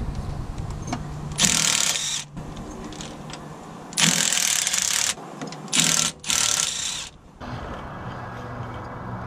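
A ratchet works on the prop shaft of a Land Rover Defender raised on axle stands, its quick clicking coming in several loud bursts separated by quieter pauses, close by and with no talking.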